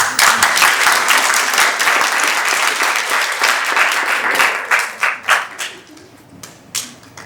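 A theatre audience applauds student performers at a school drama showcase, loud dense clapping that thins into scattered last claps toward the end.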